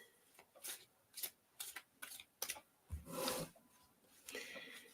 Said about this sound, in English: as I'm shuffling these cards